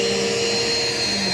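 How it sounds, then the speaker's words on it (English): Eureka PowerSpeed upright vacuum cleaner running steadily up close, a loud constant motor whine with a sharp tonal hum over a broad airy roar, with no voices. "this thing's a really good vacuum"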